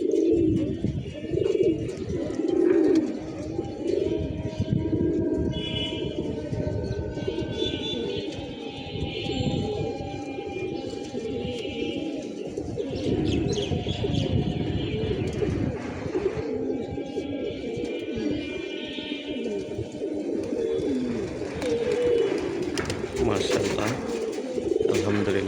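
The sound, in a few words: pigeons and pigeon chicks cooing while settling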